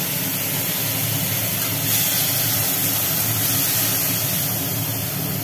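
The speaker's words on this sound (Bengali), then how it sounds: "ভাজা হবে থোড়।" Banana stem, coated in salt and turmeric, frying in hot oil with mustard seeds and chilli in a kadai, a dense, even hiss that holds steady throughout, loud and close with no talk.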